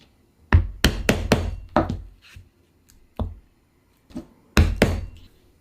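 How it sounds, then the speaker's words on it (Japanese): A mallet drives a stitching punch through leather on a leathercraft bench, producing sharp wooden knocks in uneven bursts: quick clusters of hard strikes separated by short silences, loud and close. "どんどん縫い穴を開けていってください。"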